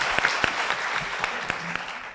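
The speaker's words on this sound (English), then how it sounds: "A big round of applause for him." An audience at a Twyford Ceramics annual conference in Kenya applauds, a full, continuous round of clapping with a few sharper individual claps standing out over the steady crowd.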